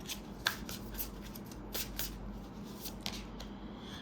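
Tarot cards being shuffled to pick a suggestion card, soft papery riffling and rubbing with a few sharper snaps, close and low in level against a steady background hum.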